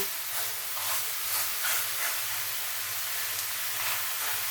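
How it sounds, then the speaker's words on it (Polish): Meat sizzles and hisses steadily in a hot, dry pan, a close, continuous crackling spatter with a faint low hum underneath. "I mięso nam się zapieka."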